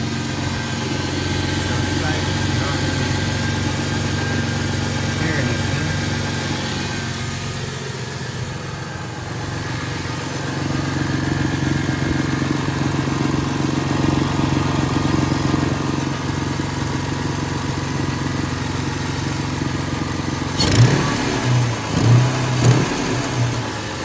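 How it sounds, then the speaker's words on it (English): A 2001 Ford Mustang with the 3.8 engine idles with an exhaust manifold leak on the passenger side, a steady close-up engine drone with a slight rise mid-clip and a few louder bumps near the end. "exhaust leak sound."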